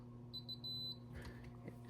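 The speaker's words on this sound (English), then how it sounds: "I am going to torque this down until it beeps" A torque screwdriver set to 10 inch-pounds, used to install an aluminum red dot mount on a Ruger Mark pistol, gives a quick series of faint high beeps against a low steady hum.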